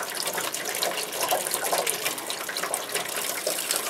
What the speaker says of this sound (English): As soon as the seal's broken, the water's streaming out.